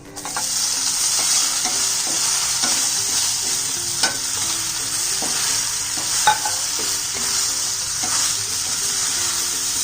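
Cut idli pieces stir-fried in a pan spiced with red chilli powder, turmeric and salt, giving a steady loud sizzle with repeated scraping and clinking of a spatula against the pan, and no talking.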